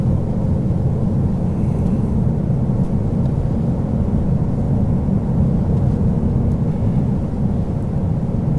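2020 Shelby GT500 engine heard from inside the cabin while driving gently, a loud, steady low rumble and drone throughout with no speech.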